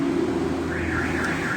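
A car alarm wails faintly in a rising and falling warble that starts partway through, heard over a steady low hum.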